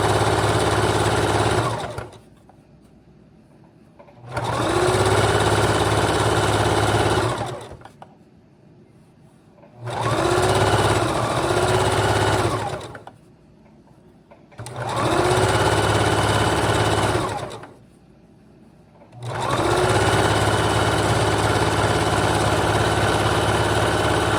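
A sewing machine stitches trim onto a shorts jumpsuit in five steady whirring runs of a few seconds each, separated by short pauses, loud and close throughout.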